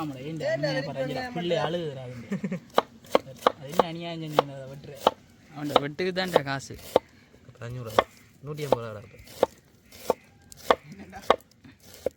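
A knife chops onions on a board in quick, sharp taps, heard up close, while a person talks over much of it.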